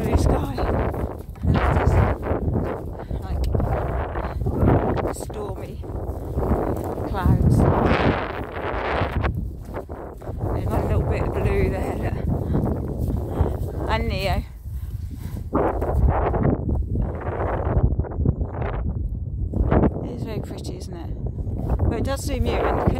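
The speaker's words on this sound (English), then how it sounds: "wind has just picked up" Wind gusts across open countryside on an overcast day, a steady broad rushing roar buffeting the microphone throughout, with people talking over it.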